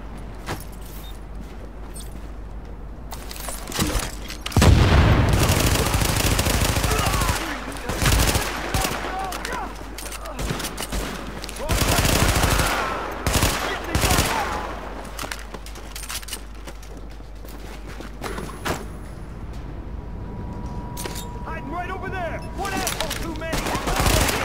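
Shotgun blasts ring out in The Division, loud, close booms spaced irregularly among bursts of other gunfire and combat noise, with a voice speaking at times.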